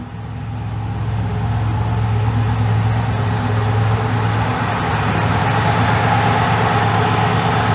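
A twin-turbo 5.4-litre engine in a Ford BA ute idles rich, a steady deep rumble with a constant low hum, loud and close, holding evenly throughout with no talk.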